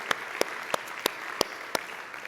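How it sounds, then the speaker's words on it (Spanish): Clapping in a steady, even rhythm during a church service, seven or so sharp claps evenly spaced, with faint room noise between them. "Ese merece un fuerte aplauso para el Señor."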